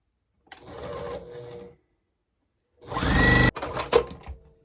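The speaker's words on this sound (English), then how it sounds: "I'm going to sew these 2 together." A sewing machine stitches jelly roll fabric strips in two short bursts, the first lighter and the second louder and faster, with a quiet pause between them.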